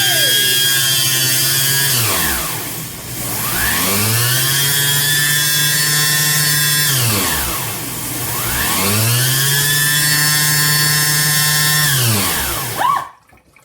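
A Gourmia whole fruit extraction juicer runs its self-clean cycle with water, its motor whining loudly and ramping down and back up in three long cycles before cutting off abruptly at the end, with no voices.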